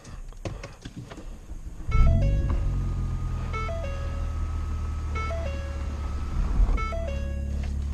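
A Ford Fiesta Titanium with its exhaust deleted starts up and settles into a loud, deep, rumbling idle, while repeated electronic dashboard chimes ring over the engine.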